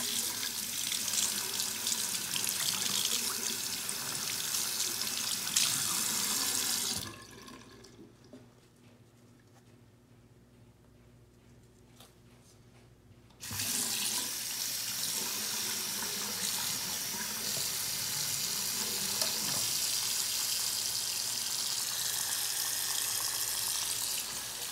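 Water gushes steadily from a tap into a bath, a loud broadband rush that cuts out for several seconds partway through, leaving a quiet gap with faint drips, then resumes at full strength.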